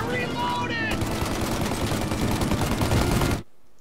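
Sustained automatic gunfire in the video game Mafia Definitive Edition, aimed at a turret during a big gunfight at a farm, a loud dense burst with voices at the start, cutting off abruptly near the end.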